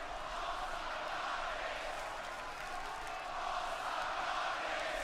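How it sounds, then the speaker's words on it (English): A loud crowd at a live WWE Raw wrestling show roars steadily, a thick rumble of cheering and shouting voices that swells again near the end with no break. "this crowd is loud"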